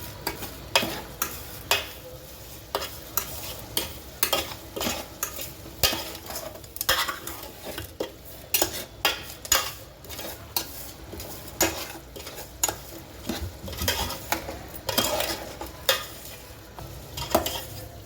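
Fenugreek leaves stir-fried in a pan over medium flame give a steady soft sizzle, broken by frequent scraping and clinking strokes of a spatula against the metal in an uneven rhythm, close and alone.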